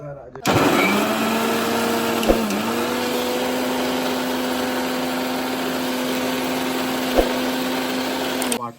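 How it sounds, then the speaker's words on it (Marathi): A kitchen mixer grinder whirs through roasted coconut with coriander and garlic for an Agari-style chicken masala, switching on abruptly and holding a loud, steady motor whine until it cuts off near the end. "आता आपण ते मिक्सरला ग्राइंड करूया"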